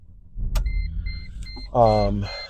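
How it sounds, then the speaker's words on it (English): A 2007 Mercedes-Benz C230 with a six-speed manual transmission is started, with a couple of short electronic chimes followed by the engine catching and idling as a loud, steady hum, while a voice murmurs faintly. "let's go for a quick ride in this Mercedes C230"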